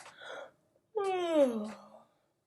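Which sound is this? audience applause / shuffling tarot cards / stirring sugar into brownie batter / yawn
yawn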